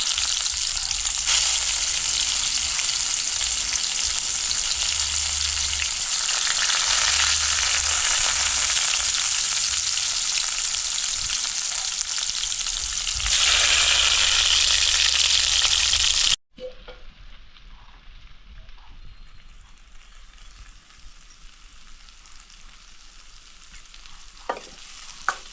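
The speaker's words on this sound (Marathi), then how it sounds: "आणि इकडे आपण तेल ठेवलंय गरम करायला. जिरा आणि मोहरी. भरलेली कारली सोडून घ्यायची." Stuffed bitter gourds fry in hot oil with cumin and mustard seeds, giving a loud, steady sizzle and crackle for about sixteen seconds before dropping abruptly to a quieter, sparser hiss.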